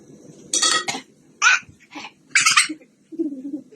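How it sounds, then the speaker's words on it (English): A few short, breathy coughs in quick succession, close by, with a faint clatter in the background and no talking. "don't cough inside the pot"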